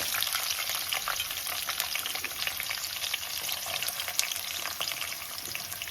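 Curry leaves and potato pieces hit hot oil in a pan for potato-capsicum avalakki, a loud, steady crackling sizzle with fine popping spatters throughout, close up and without speech.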